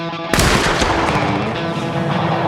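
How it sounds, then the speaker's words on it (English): A single sharp pistol shot cracks loudly in a duel at 30 paces, followed by a rumbling echoing boom that fades over a couple of seconds. "The two adversaries fire a first shot at 30 paces."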